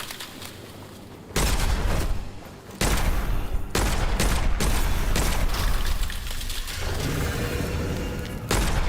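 Heavy gunfire rings out in the dark fantasy shooter Witchfire: a long stretch of dense, sustained shots and booms, loud and close, broken by brief pauses.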